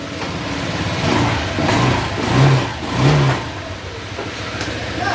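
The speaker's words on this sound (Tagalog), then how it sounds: "rinig nyo naman siguro yung makina na umaandar na siya." A car engine with a check-engine fault and a damaged ECU runs close by, idling and revving up in a few surges before settling back to a steady rumble.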